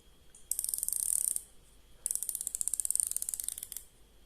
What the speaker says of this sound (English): nice chunky bezel, good bezel action